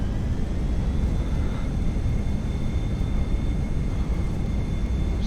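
An airliner in a flight simulator game roars with a steady, broad jet wash during its landing rollout, a continuous loud rush under a faint high whine with no break.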